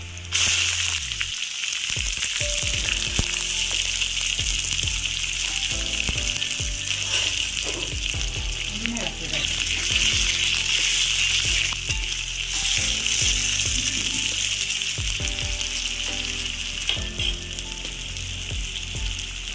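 Onions sizzle and crackle steadily in hot oil, with occasional clinks of a utensil stirring the pan.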